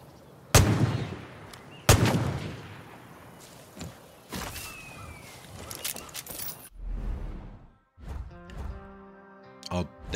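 Loud gunshots in Far Cry New Dawn while shooting something down: two sharp blasts near the start, then scattered heavier bangs and thuds, followed by clanking, metallic debris-like noise near the end.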